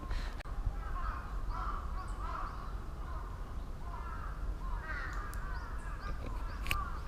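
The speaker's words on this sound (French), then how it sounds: "Je n'entends que les corbeaux." Crows cawing at the Meiji-Jingu shrine in Japan at dusk, a series of harsh repeated caws from several birds at middle distance over a steady background hum, with no talking.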